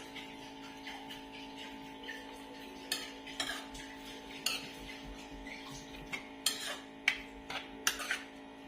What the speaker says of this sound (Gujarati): આવી રીતે ચમચો ફેરવતું રહેવાનું.